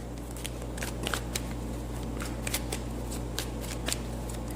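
Tarot cards shuffled by hand during a reading, soft riffling and snapping of the deck in irregular bursts over a low steady hum, close and fairly quiet.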